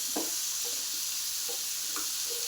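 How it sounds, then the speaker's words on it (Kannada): Masala fries in a pan as a steady bright sizzle, with a few soft stirring taps close by and no talking. "ಈ ಥರ ಚೆನ್ನಾಗಿ ಫ್ರೈ ಮಾಡ್ಕೋಬೇಕು ಮಸಾಲಾನ"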